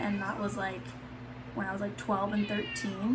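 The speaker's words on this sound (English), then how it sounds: "I apologize, that's my cat." Close, drawn-out meows from a pet cat in a room, several rising cries repeating one after another, heard over a person talking.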